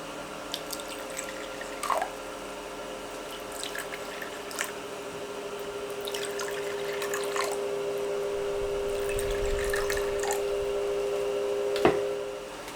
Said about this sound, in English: So the baby snakes do now need water, so I'll just top up the water bowls for each of them.